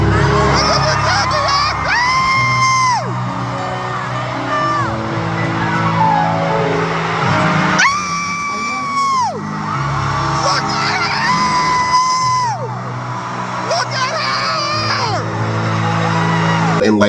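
Huge concert crowd at a world tour concert in New Orleans screaming and cheering continuously, with shrill whoops and surging yells rising in waves, loud and close throughout.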